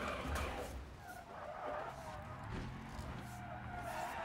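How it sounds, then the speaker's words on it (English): Virtual white van in BeamNG.drive doing burnouts: a continuous tire screech with droning engine underneath, steady and moderately loud throughout with no talk. "White van, guarantee this thing does better burnouts."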